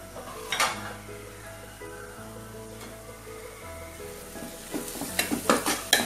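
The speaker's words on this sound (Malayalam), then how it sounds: "ഇനി നമുക്കിത് തുറന്നിട്ട് ഇളക്കി കൊടുക്കാം." Onion masala frying in a pot for king fish dum biryani, a steady sizzle broken by stirring scrapes and clinks of the spoon, louder toward the end, close by with no talking.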